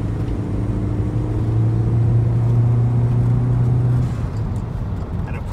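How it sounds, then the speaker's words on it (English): A turbocharged car engine fitted with a blow-off valve hums and revs in a steady, loud, close-up drone, easing off near the end without a distinct valve hiss. "And of course you can hear the blow-off valve."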